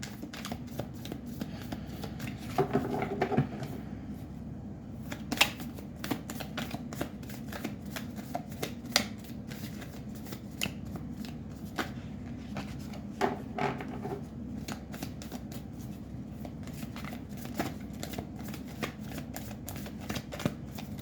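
Tarot cards shuffled by hand for a Libra reading, a steady run of soft riffling and papery flicks with sharper snaps as the deck bridges, close and unbroken for the whole stretch.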